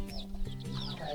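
A chicken on a tiled floor makes short clucking sounds nearby, brief rough calls amid light household noise.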